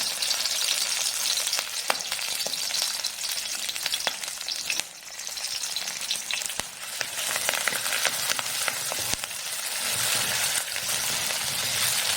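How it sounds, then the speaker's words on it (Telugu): Crushed onion, garlic and curry leaves fry in hot oil for goat head curry, a loud, continuous crackling sizzle with scattered sharp pops and stirring sounds throughout. "ఇది బాగా ఫ్రై చేసుకోవాలా."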